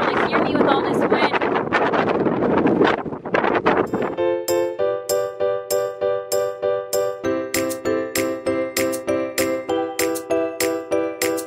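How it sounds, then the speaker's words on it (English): Wind buffets a camera microphone outdoors during a road trip, a loud, rough roar filling the first few seconds before it drops away and a regular series of ringing, chime-like tones takes over. "It's really windy out here."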